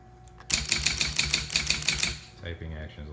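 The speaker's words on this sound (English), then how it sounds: "Typing action is a lot better." A Sears Scholar typewriter, just repaired, typed in a quick, steady burst of about a dozen close, crisp key strikes lasting under two seconds, then a few softer mechanical clicks and shuffles.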